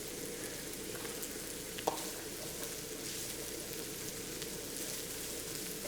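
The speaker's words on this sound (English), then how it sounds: "We're just going to saute this just for 3 to 5 minutes till the vegetables soften a bit" Onions, chopped vegetables and yellow potatoes sauté in a pan with a soft, steady hiss that holds evenly throughout. A single brief knock sounds partway through.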